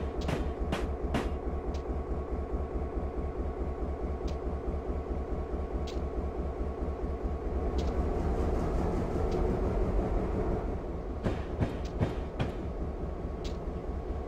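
A diesel locomotive, an EMD F unit on Blackwood Creek in Train Simulator 2016, drones steadily with a deep engine rumble and faint clicking wheels for the whole stretch, alone and close.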